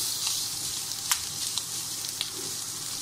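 Small shrimp and onions fry in a pan with a steady, close sizzle and occasional crackles, with no talking.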